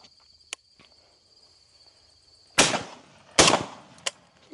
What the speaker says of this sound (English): Did I shoot too early?